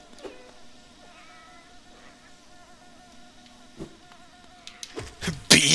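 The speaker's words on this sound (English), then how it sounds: "Bees?" Bees inside a hive in the Hollow Knight video game give off faint, thin buzzing drones that drift up and down, ending in a burst of louder noise.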